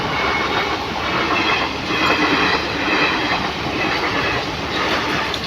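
A train passes close by with a continuous loud rumble and rhythmic clatter of wheels on the rails, heard near a level crossing in Tamil Nadu, with no voices.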